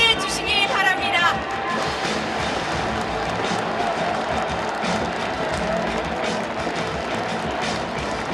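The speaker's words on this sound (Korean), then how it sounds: "뜨거운 박수로 맞이해 주시기 바랍니다." A crowd claps and cheers at a Democratic Party presidential nomination convention in Korea, a sustained wash of applause at moderate distance with voices and crowd murmur mixed in.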